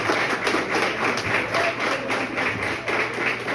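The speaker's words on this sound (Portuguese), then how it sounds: "Você pode aplaudir a Jesus?" Steady applause from a church women's gathering during a sermon, dense continuous clapping filling the room at an even level for a few seconds, with no talking over it.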